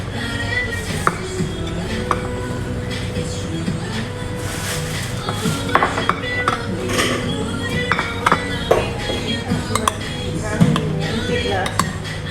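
A spicy Thai yum salad being tossed in a bowl, with repeated clinks and knocks of utensils against the dish at an uneven rhythm, close by, under occasional speech.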